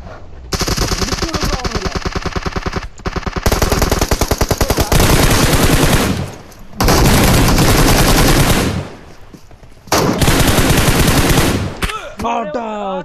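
Rapid automatic gunfire from a mobile shooter game in a custom room match, loud and sustained in long bursts with short pauses, and game sounds trailing off at the end.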